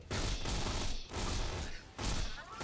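A turret fires in Borderlands 2, a sci-fi shooter, setting off dense, continuous gunfire. Three loud bursts follow one another over about three seconds, each cut by a short break, with mechanical rattling mixed in.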